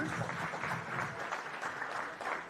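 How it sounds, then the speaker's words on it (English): Soft, continuous audience applause at the Hult Prize Sri Lanka Nationals grand final, heard at a distance as an even wash of clapping without a break. "let's give them another round of applause"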